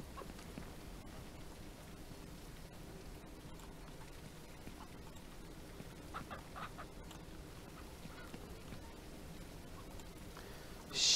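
Chickens clucking on a ranch in Ranch Simulator, a soft steady cluck and fowl chatter over a continuous rain-like patter, moderate level with no talking, ending in a brief louder burst.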